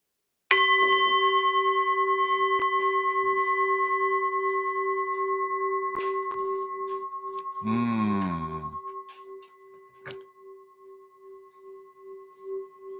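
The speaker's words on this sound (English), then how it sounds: "I'm going to ring the bell while you're picking your numbers." A single bell is struck once and rings out clearly, its pure tone sustaining and slowly decaying over many seconds, briefly interrupted midway by a short sighing vocal sound.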